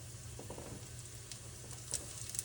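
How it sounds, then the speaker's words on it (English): Flour-dredged beef pieces sizzle in hot oil for a braised beef dish, a continuous crackling fry with small pops and spits over a low steady hum, close and fairly quiet, no talking. "do you hear it sizzle?"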